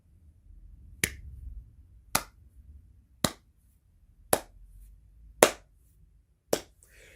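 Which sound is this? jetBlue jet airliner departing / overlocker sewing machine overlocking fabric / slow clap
slow clap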